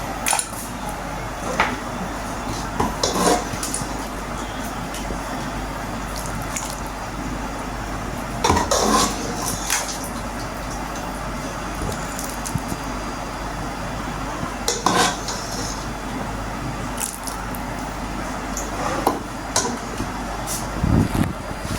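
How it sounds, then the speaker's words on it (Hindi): Chana dal and koftas being served into a dish: soft wet squishes, spoon scrapes and occasional clinks of a utensil against cookware, close and fairly quiet, with no talking. "इसको डिश आउट करती हूँ मैं"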